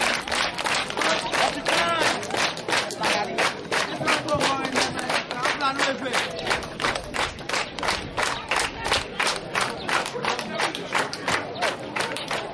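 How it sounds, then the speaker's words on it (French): A crowd at an inauguration of an agricultural produce storage warehouse in Goli claps loudly and rhythmically for the sponsor, sustained cheering and shouts mixed in, the applause steady and close throughout. "je vous demande d'applaudir très fort le parrain"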